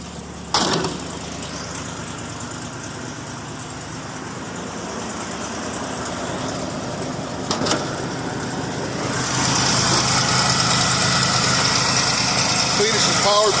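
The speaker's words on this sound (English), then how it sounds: "Cletus is powered by 460 cubic inch big block Ford power." A 460 cubic inch big block Ford engine idling under an open hood, a steady low rumble with a couple of sharp knocks, swelling into a louder, brighter roar near the end while a voice talks over it.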